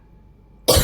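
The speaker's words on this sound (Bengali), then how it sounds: "বাপরে কাশি উঠেছিল" A single sharp, loud cough bursts out near the end after near silence, spoken while cooking chicken salad in a home kitchen.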